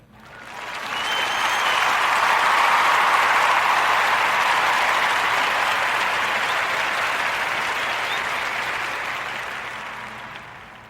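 A crowd's applause swells in quickly, holds as a dense, even wash of clapping for several seconds, then slowly fades out.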